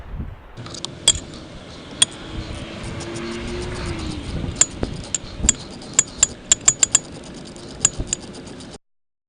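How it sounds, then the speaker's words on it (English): Clamps tightened on a coolant filter line in a Ford F350 6.0 Powerstroke: a string of sharp metallic clicks and ticks, sparse at first, then quicker near the end, over a low steady hum. "you can go ahead and tighten down the clamps"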